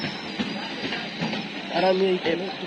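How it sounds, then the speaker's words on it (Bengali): A Budge Budge local train rolls past a station near Kolkata, a rumbling passage with clattering wheels and a brief squeal, heard close amid platform bustle and background voices. "এই ট্রেনটা যাবে হচ্ছে ডান দিক ধরে"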